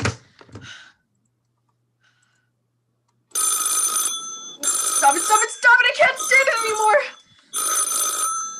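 A telephone bell rings in an old radio play, several loud, close bursts of ringing with short gaps between them, while a distressed voice speaks over it.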